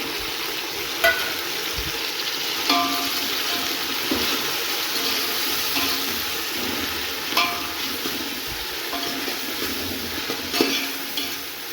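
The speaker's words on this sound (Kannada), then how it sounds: "ಬಿರಿಯಾನಿಗೆ ಎಲ್ಲ ಈ ಥರ ಫ್ರೈ ಆಗಬೇಕು ಅರ್ಧಂಬರ್ಧ ಬೇಯಿಸಿದರೆ ಈರುಳ್ಳಿ ಚೆನ್ನಾಗಿರಲ್ಲ" Onions frying in a pan for chicken biryani, a steady broadband sizzle close up with occasional stirring clicks and scrapes throughout, no talking.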